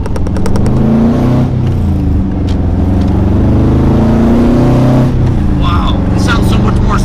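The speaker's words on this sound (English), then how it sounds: "Even if I didn't do the sway bar, the exhaust tone is so much better." A Subaru GC8 with a test pipe accelerates, its exhaust droning and rising in pitch through the gears, loud and close from inside the car, with people talking over it.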